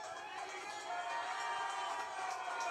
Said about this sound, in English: So, warm and enthusiastic crowds there lining